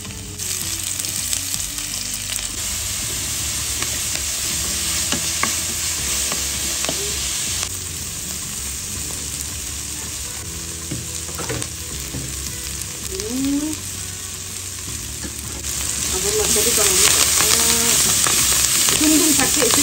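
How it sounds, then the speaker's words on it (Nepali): Garlic sizzles steadily in a hot pan for a buff meat and dung dung saag curry, with occasional stirring scrapes and a louder burst of frying toward the end. "अब लसुन फ्राई गर्नेछु।"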